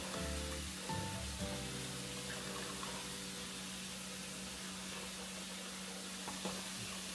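Noodles simmer in a pot for a spicy crab and shrimp pasta, giving a quiet, steady bubbling hiss beneath a low background hum, with occasional faint scraping from stirring.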